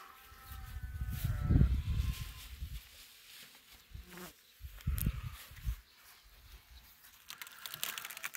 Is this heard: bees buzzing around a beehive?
yes